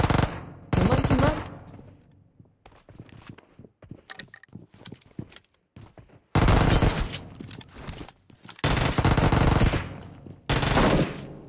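Automatic gunfire rattles out in several loud, sustained bursts during a PUBG Mobile match, separated by quieter stretches of scattered clicks and footstep-like taps.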